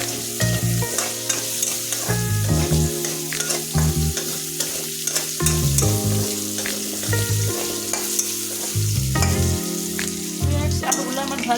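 Potatoes frying crisp in hot oil in a pan, a loud steady sizzle with repeated utensil scrapes and knocks from stirring, plus a pulsing low hum throughout.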